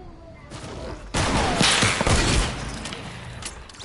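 Video game gunfire erupts in a burst of rapid shots and thuds, loud and close, tapering into scattered pops before fading out.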